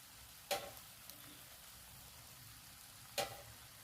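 Chicken thoran gravy with curry leaves being stirred in a pan, faint and quiet, with two distinct scraping strokes about three seconds apart over a low simmering hiss.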